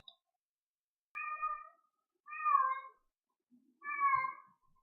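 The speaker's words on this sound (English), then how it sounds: "Can you hear my cat?" A cat meows three times, loud and drawn-out, with short pauses between each cry in an otherwise quiet room.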